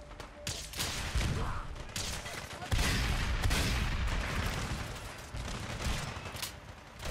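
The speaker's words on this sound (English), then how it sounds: "Settlers firing through me." Fallout 4 settlers fire guns in a fight at a tree house tower settlement, a busy spread of overlapping shots and booms that carries on steadily at moderate loudness.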